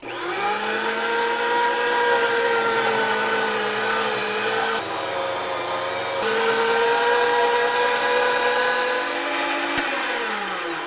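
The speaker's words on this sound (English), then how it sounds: "as I grind this, I'm going to add one piece of the round and one piece of the ribeye in at the same time" An electric meat grinder runs steadily while grinding chunks of round and ribeye beef for burger patties, giving a loud continuous motor whine with a brief dip in the middle and a sharp click near the end.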